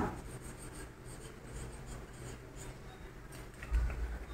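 Pen writing an exercise by hand on paper, a faint, steady scratching with soft irregular strokes and a low background hum.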